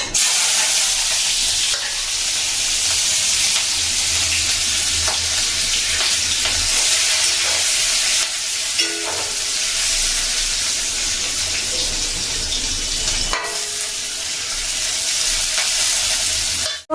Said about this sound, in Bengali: পেঁয়াজ, লঙ্কা, রসুন দিয়ে দিয়েছি তেলে